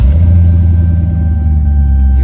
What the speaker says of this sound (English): Let's fire her up real quick.